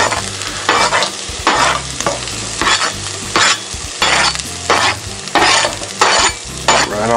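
Corn, celery and potatoes stirred in a hot Dutch oven for catfish shrimp chowder, loud rhythmic scraping sweeps over a continuous sizzle, repeating roughly every second, close and alone.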